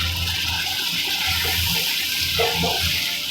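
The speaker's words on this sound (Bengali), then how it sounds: "এখানে অল্প পরিমাণে জল মিক্স করব" A small amount of water is poured into reddened spices frying in a pan for fish-head chana dal, giving a brief, close splash and hiss that runs steadily for a few seconds.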